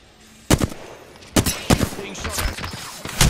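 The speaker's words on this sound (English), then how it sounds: "he's shooting me, bro" Sharp, loud gunshots ring out in the battle royale game Apex Legends, coming as separate cracks and short clusters with quiet gaps between them, alone without voices.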